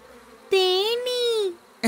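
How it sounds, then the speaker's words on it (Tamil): A loud buzzing drone of bees with a wavering pitch comes in two long, close bursts, with a short break between them, in a cartoon. "இந்த தேனீக்கள் மழை வருதுன்னு நமக்கு தெரிவிக்குது."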